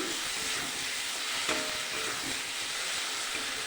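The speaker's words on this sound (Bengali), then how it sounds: "মশলার সাথে লবণ, হলুদ, টমেটো সস দিয়ে দিয়েছি, ভালো করে একটু কষিয়ে নিচ্ছি" Spices sautéing in a pan with salt, turmeric and tomato sauce, a continuous soft sizzle and hiss with faint stirring scrapes, steady and close, no talking.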